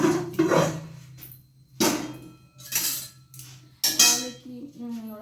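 A metal kadai wok is handled in a kitchen: several sharp, close metallic clanks and scrapes come in separate bursts, ringing briefly between quieter pauses.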